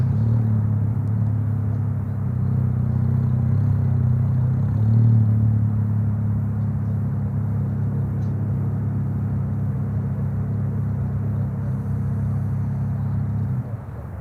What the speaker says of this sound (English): the car you hear in the background is a nice Porsche